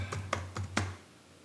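Four quick keystrokes on a computer keyboard, close and fairly soft, spaced unevenly over about a second, with no talk.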